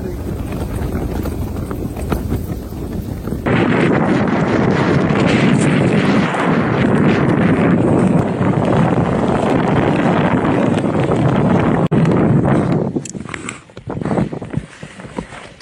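Strong wind roars across a frozen Lac Saint-Jean in Québec, a loud, steady broadband gusting that fills the whole stretch and eases off near the end, with no voices over it.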